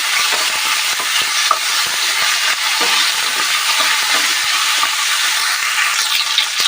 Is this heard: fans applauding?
no